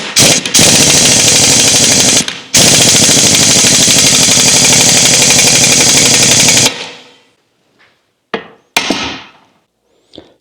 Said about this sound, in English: Tightening that up with 1 1/8 socket.